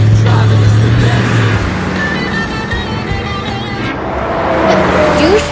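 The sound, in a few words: car driving on road at night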